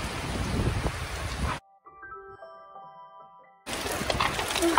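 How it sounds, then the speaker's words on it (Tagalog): Steady outdoor rain pours down in a dense, hissing wash, cut by a quiet indoor gap holding faint tones before the loud downpour returns. "Umuulan guys."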